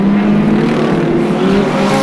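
Hot rod race cars roar around a track at an Ipswich race meeting in 1978, a loud, continuous engine drone with shifting pitch as the cars pass close by.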